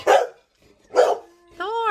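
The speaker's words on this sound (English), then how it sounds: "These dogs are bossing me around, y'all. Can you hear them?" Two sharp barks from a nearby dog in a home while someone crochets, spaced about a second apart, followed by a rising whiny yelp.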